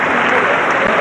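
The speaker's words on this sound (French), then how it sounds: "le public de Thiais l'a compris et applaudit les deux hommes" Boxing crowd at a bout in Thiais applauding both fighters after the tenth round, a dense, steady wash of clapping filling the hall at full strength throughout.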